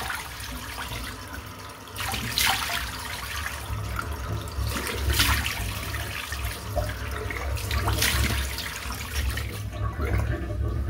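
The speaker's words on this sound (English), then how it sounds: "they'll pretty much go away when I splash it with some cold water, which should be freezing cold" Freezing-cold tap water runs and splashes over a shaving brush, a steady rushing hiss with louder bursts as the brush is moved through the stream.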